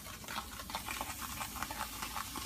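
Baking soda and vinegar fizz in a mixture over a kitchen sink, a steady close hiss of bubbling with soft crackling pops and light stirring throughout.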